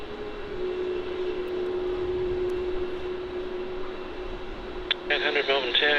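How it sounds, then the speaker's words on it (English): An Airbus A321neo taxis toward runway 16 at Melbourne Airport, heard as a steady, distant jet-engine drone with a faint tonal whine. A short burst of radio voice chatter comes in near the end. "there is the other A321neo making its way over there to runway 16 for its departure to the Gold Coast"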